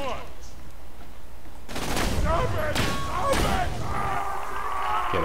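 A shotgun fires in Borderlands 2, giving several heavy blasts a second or so apart over a constant background of game ambience and other combat noise.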